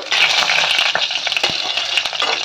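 Dried red chillies and five-spice seeds splutter in hot mustard oil, a steady loud crackling sizzle with sharp pops scattered throughout.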